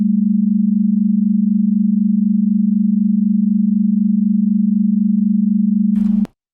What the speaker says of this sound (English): Do you hear that kind of flutter tone in between the two sine waves?